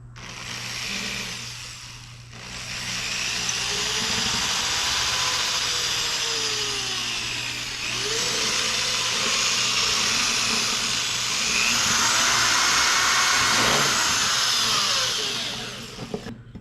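A power drill whines steadily into a metal part of a 1991 Kawasaki KX250 motorcycle, its pitch dipping and rising as it bites, running almost continuously with a short pause near the start.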